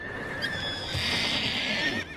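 Horses neigh in a French children's cartoon about show jumping, one long, loud whinny held under a steady noisy background, with a brief blip before it and no talk.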